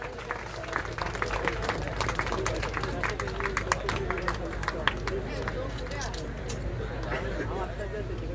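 An audience at a prize distribution ceremony for a national run applauds a female first prize winner, steady crowd clapping with sharp individual claps throughout, mixed with general hubbub and some speech.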